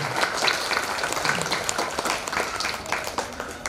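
Audience at a Balaji katha religious discourse clapping, a sustained, even round of applause from a crowd, fairly close and steady for the whole stretch.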